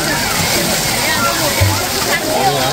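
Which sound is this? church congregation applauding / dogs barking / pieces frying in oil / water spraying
water spraying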